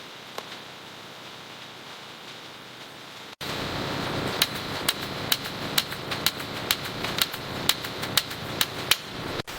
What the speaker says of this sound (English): Automated machines begin filling empty bottles.